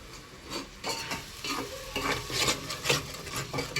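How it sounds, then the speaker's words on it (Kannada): Freshly ground spice paste fries in a pan for a country chicken dish, sizzling steadily while a spoon scrapes and stirs in repeated close strokes, with no voices. "ಅದೇನು ಪೇಸ್ಟ್ ಮಾಡ್ಕೊಂಡಿದ್ನಲ್ಲ ಅದನ್ನು ಫ್ರೈ ಮಾಡ್ಕೊಂಬ್ರಿ ನಾವು ಚೆಂದಾಗಿ"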